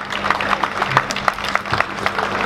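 A church congregation claps in praise during a worship service, with steady, dense applause filling the room throughout and faint voices mixed in.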